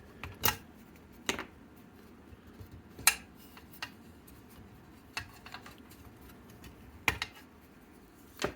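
Wire leads are snipped off a hot tub heat tube from a Gecko S-Class spa pack, heard as a handful of sharp, isolated cutting clicks spaced irregularly over a quiet background.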